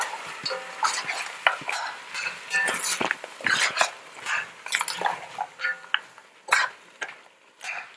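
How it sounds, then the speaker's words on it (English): Browned lamb being stirred in a pot for a Trini stew lamb, with a spoon scraping and clinking against the pot in repeated short strokes over a light sizzle, close and moderately loud. "Raise your heat to high and give it a good stir to coat your meat with all that lovely browning"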